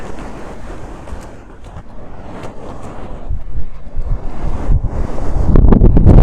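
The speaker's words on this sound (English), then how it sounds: "Whoa, this is the wind up here now." Strong wind buffets the microphone on a hilltop above Begur on Spain's Costa Brava, a continuous loud rumbling roar that builds and grows heavier toward the end, with no voices.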